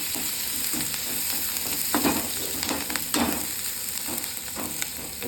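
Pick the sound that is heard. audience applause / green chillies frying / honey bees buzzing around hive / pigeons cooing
green chillies frying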